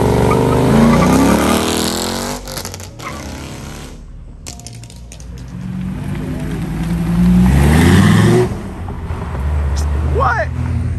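Muscle cars pulling out of a Dayton cars and coffee meet, loud V8 engines rumbling and revving as they pass close by in succession, with crowd voices talking over them.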